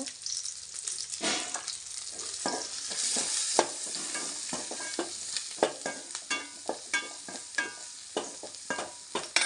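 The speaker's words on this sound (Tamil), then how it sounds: "வெங்காயம் நல்லா வதங்கிருச்சு மஞ்சத்தூள் கொஞ்சம் போட்டுக்கலாங்க" Onions sizzle and crackle in a pan while a utensil stirs and scrapes in quick, repeated strokes, close but quiet.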